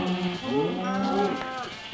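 A cow in the video game Minecraft lets out a long, wavering moo, close and clear over a low steady background, with nobody speaking.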